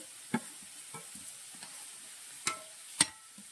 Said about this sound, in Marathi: हे पूर्ण सारण आता आपल्याला परतायचं आहे